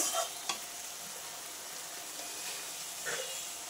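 Spice paste frying in oil at the point where the oil starts to separate, a soft continuous sizzle with occasional scraping strokes of a stirring spoon, fairly quiet and without voices.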